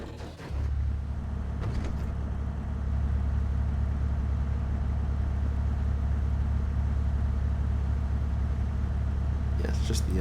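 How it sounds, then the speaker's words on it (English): Car in the racing video game Project Street idling with a steady low engine drone and hum that carries throughout at an even level, with a couple of brief sharp clicks at the start and end; no speech heard. "it's just the engine sound that's changed on this."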